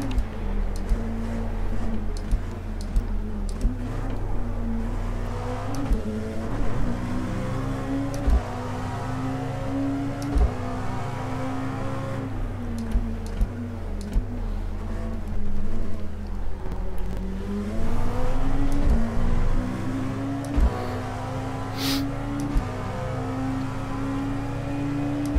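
Race car engines at the Imola circuit in iRacing: a loud, sustained engine drone close by that rises and falls with revving and gear changes, with brief clicks and bumps throughout.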